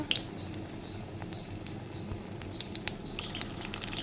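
Gram-flour battered fritters deep frying in hot oil, a steady dense sizzle with faint crackles and pops throughout, no talking.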